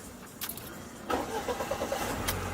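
A Soviet-era car's engine cranks and catches, then settles into a steady rough idle, close up and fairly quiet, with no talk over it.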